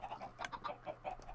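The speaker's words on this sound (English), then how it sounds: "Look, it's a rogue chicken." Chicken clucking in the Civilization video game, a quick series of short clucks in an uneven rhythm, fairly faint and heard alone with no talk.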